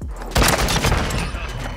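Shotgun fire in a video game: one loud, close blast bursts in abruptly and decays into a rough, noisy rumble that lingers for over a second.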